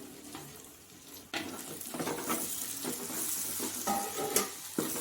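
Tomatoes dropped onto ginger-garlic paste sautéing in a pan for a chana dal dumpling curry: a sudden burst of sizzling that settles into a steady frying hiss with occasional stirring clinks.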